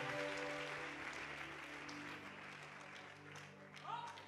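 Church congregation clapping and cheering during a Friday night worship concert, a steady broadband wash of applause over sustained organ-like tones, with a brief voice rising near the end.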